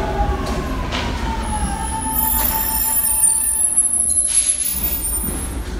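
A Paris metro train near the Buttes de Chaumont runs loud and close, with screeching wheels, tonal squeals and a rumbling rush, and no talking.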